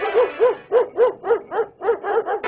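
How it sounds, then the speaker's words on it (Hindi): Cartoon dog barking in a rapid series of about ten loud, close yaps in steady rhythm as it attacks, with no talking. "एक दिन उस पर कुत्ते ने हमला कर दिया"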